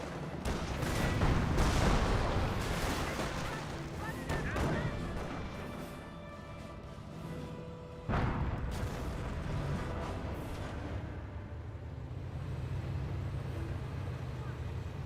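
Artillery barrage from the game Company of Heroes, with heavy rumbling booms and battle noise rolling through the whole stretch, a sharp fresh blast near the middle, and a voice talking over parts of it.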